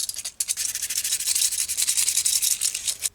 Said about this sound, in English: I kind of rough up this surface a little bit just to give the CA glue a little bit more tooth. So a little bit of sandpaper.